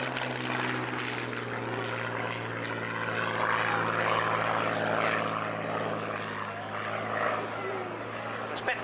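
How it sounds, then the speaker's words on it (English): Supermarine Spitfire Mark 9 propeller fighter flying past at an air show, a sustained droning engine roar that swells and holds steady, heard at a distance with an announcer's voice over it. "But now moving in again from our left, the Spitfire Mark 9."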